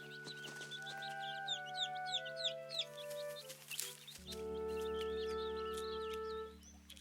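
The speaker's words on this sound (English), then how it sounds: "the baby birds were chirping a lot until their mom came back to the nest with food" Baby birds chirp in a nest in a children's learning program: quick, high cheeping calls repeat over sustained background music tones.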